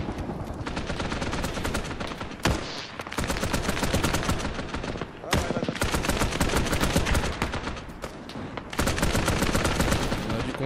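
Intense battlefield gunfire during a mercenary battle in Luanda, with dense overlapping rifle and machine-gun bursts rattling almost continuously, loud and close, for over ten seconds.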